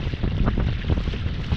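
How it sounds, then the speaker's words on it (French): A fishing kayak running on its electric motor across clear water while fishing for sea bass, giving a steady low hum mixed with water wash and wind buffeting close to the microphone. "J'y vais au moteur électrique."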